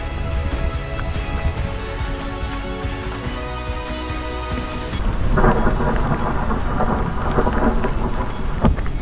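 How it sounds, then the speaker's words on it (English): Heavy rain pours steadily while deep thunder rumbles and rolls in the mountains near Lago di Braies in the Italian Dolomites, swelling louder partway through, a close, enveloping storm with no voices. "you can hear that thunder getting close"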